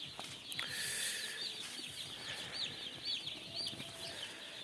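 Broiler chicks at a poultry farm peep continuously in high, overlapping chirps. The sound is faint and fills a quiet barn space.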